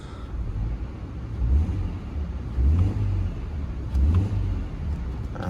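A 2017 Subaru Crosstrek 2.5i Premium engine idles with a low rumble after startup, rising in three brief revs spaced a little over a second apart, fairly close.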